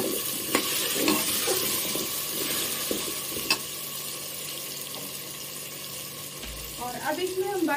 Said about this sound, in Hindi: तो ऑयल में हम आलू को भून लेंगे कुछ सेकेंड के लिए।